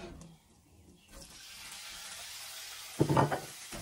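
Corned beef drops into a pan of golden-browned garlic and begins to sizzle, a soft hiss building after a quiet start, with a brief louder burst of frying near the end.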